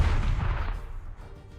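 Artillery guns firing in a video game, a loud deep boom that rolls off into a fading rumble, close and with no talk over it.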